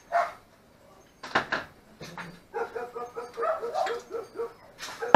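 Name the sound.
dog barking at night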